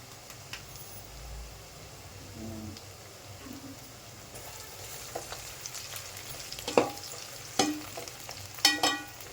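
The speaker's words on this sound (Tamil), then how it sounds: "வெங்காயம் நல்லா வதங்கட்டங்க அது நல்லா வதங்கினா தான் அந்த டேஸ்ட் வரும்" Onions sautéing in a pan for a mutton and broad bean curry give a quiet, steady sizzle with occasional stirring scrapes, and a few sharper clatters near the end, close by and without talk.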